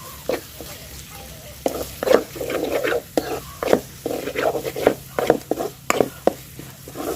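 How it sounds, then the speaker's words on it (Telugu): Onions fry in a pan with a ground paste of coconut, ginger, garlic and cumin, giving a steady close sizzle broken by repeated scraping stirs. "ఉల్లిపాయలు అయితే వేగిపోయినాయి కొబ్బరిను అల్లం కొబ్బరి వెల్లుల్లిపాయలు జీలకర్ర వేసి నూరుకున్న పేస్ట్ అయితే వేసుకుంటున్నాను"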